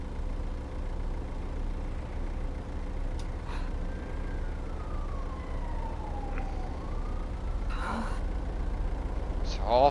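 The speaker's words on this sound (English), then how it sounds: "It's awful when you can hear that. The sirens" Police sirens in a FiveM roleplay game, a distant wailing siren sweeping slowly up and down over a steady low engine rumble, faint under the constant background hum.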